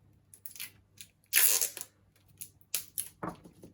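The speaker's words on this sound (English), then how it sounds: "All we're going to do now is take some tape and stick it on" Adhesive tape pulled from a roll and torn off, heard up close as short crackly strips, including one longer loud rip, between quiet pauses with light handling noise.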